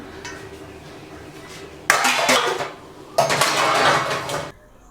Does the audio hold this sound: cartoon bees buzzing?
no